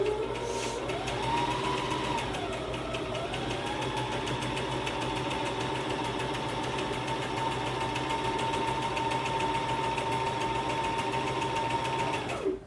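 A sewing machine stitches the center back seam of a tee, running as a steady, even mechanical whir close by without pause for the whole stretch.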